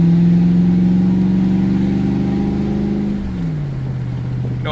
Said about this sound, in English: give it some more gas so you can hear it